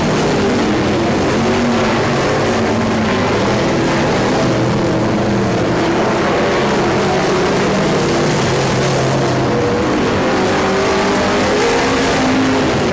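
Race cars on the final lap of a heat race produce a loud, continuous engine roar with overlapping revs as the pack circles the track, filling the whole stretch without a pause.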